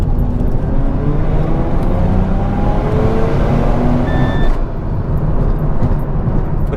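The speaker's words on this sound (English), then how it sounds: "There's just like a whoosh from the intake, a little bit of turbo sound" Stock 2000 Mazda RX-7 under way on winding back roads, a loud, steady engine and road roar with a faint intake whoosh and turbo hiss running throughout, a brief high tone near the end.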